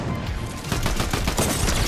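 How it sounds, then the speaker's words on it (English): Rapid Fortnite gunfire shooting out a player's built floors, a dense burst of loud close shots rattling continuously for a couple of seconds with no talk. "Shooting his floors out."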